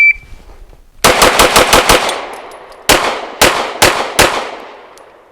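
Sharp, loud pistol shots from a Canik METE MC9 9mm on an outdoor range during a shooting drill: a rapid string of about seven shots, a pause, then four more, each ringing out with a decaying echo.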